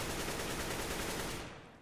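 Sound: AK rifle gunfire in video game Counter-Strike: Global Offensive

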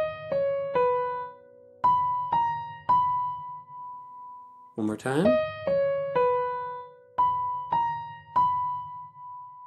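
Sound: ear test melody mi re do up an octave

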